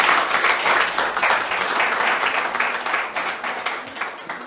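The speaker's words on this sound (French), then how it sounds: "Applaudissons pour glorifier notre Seigneur." A church congregation claps together in praise during a service, a dense, sustained round of applause that fills the room and gradually tapers off near the end, with no speech on top.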